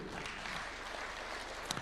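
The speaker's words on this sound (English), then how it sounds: "Clap for him." Steady audience applause for athlete Raynon Kipkorir at a State House breakfast honouring Tokyo champions, a dense, even wash of clapping filling the whole moment.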